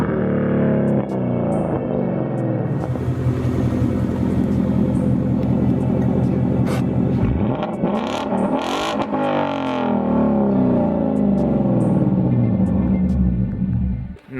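A 2015 Ford Mustang GT with a Flowmaster exhaust rumbles loudly in first gear, the steady throaty drone swelling as it revs and passes close by, with no talk over the engine.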